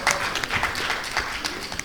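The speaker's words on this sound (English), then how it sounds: "Let's give her a round of applause, please." Audience applause at a panel event on journalism ethics and patriotism, steady clapping from a room of people throughout, fairly close and moderately loud, alone with no talk over it.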